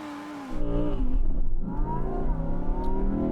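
An Audi R8 launches in a drag race against a Lamborghini Huracan, engine roaring up loudly and steadily with a rising whine as the wheels spin, close and sustained with no talk.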